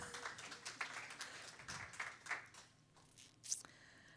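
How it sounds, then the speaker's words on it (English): An audience at a community working group meeting claps briefly, a faint scattered patter of hands in a room that fades out within a few seconds. "Let's clap for Tanda."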